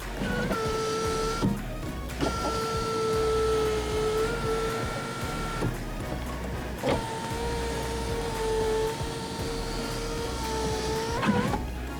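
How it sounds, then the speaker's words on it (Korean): The electric sunroof of an older Renault Samsung SM7 New Art in Prestige trim runs with a steady motor hum in several long stretches, each stopping with a faint click, heard close inside the cabin. "썬루프 작동은 요 버튼 눌러서 사용하시면 됩니다."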